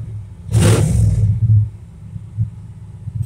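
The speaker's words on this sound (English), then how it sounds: "God, I love that sound of that roar." A 1993 Dodge Ram 250 work truck's engine blips into a loud, deep exhaust roar for about a second, then settles back to a low rumbling idle, close by with no talk.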